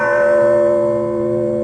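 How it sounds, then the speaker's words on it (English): A large house bell, rung by pulling a bell pull to summon servants, sounds a single loud sustained clang whose rich ringing tones hang and slowly fade, with no voices over it. "Well, that is quite a bell to summon the servants."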